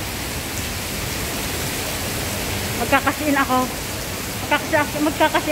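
Heavy rain with wind hisses steadily throughout, with a person talking briefly in Filipino over it in the second half.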